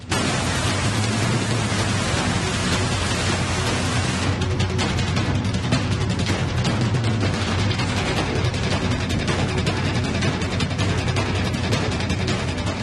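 Heavy rain pours steadily in Bengaluru, a dense, loud and unbroken hiss of water lashing surfaces with no voices present throughout.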